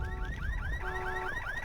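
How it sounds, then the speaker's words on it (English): Car alarm blaring in the video game Halo 3 ODST, a rapid repeating whooping electronic siren cycle, loud and fairly close. "Oh, someone's car alarm's going off."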